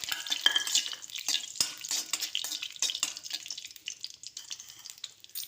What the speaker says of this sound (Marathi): आता हे आपण लवंग, काळी मिरी आणि दालचिनी याच्यामध्ये घालणार आहे.